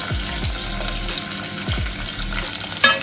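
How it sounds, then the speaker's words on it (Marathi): Chopped vegetables for pav bhaji frying in hot oil, a loud close sizzle with a few low thuds and stirring scrapes and a sharp clink near the end, no speech. "आता सगळ्या भाज्या याच्यात घालून घ्यायच्या आपल्याला पावभाजी"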